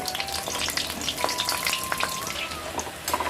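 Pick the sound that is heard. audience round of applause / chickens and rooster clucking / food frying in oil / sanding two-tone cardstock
food frying in oil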